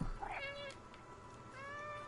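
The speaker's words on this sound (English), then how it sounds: "Press circle to meow." A cat character in the video game Stray meows once, a clear, drawn-out close call followed by a second softer, longer meow against quiet game ambience.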